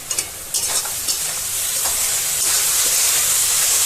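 Date palm jaggery filling cooks in a pan with bay leaf and garam masala, giving a steady bubbling sizzle and hiss, with a few stirring scrapes near the start.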